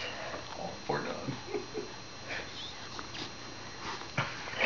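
A dog whimpers in a few soft, brief whines scattered through the clip, over a low background hum, with faint rustling and no speech.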